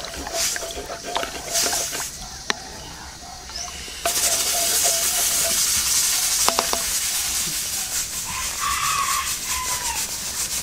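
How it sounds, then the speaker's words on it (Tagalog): Dinuguan, a pork blood stew, is stirred in a pot in one direction, making scraping, rubbing strokes over a soft simmering sizzle, with some speech. "Isang direksyon lang po ang paghalo."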